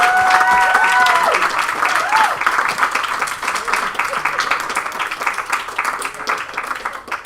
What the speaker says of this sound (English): Another round of applause just for parents and siblings.